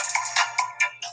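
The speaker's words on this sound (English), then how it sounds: "Apologize for that phone ringing." A telephone ringtone chirps in short repeated bursts, loud and close, with a faint low hum underneath and no one talking.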